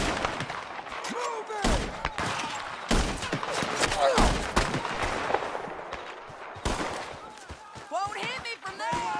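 Red Dead Redemption 2 gunfight with repeated sharp shots cracking through the scene, mixed with shouting voices and a man calling out amid the firing.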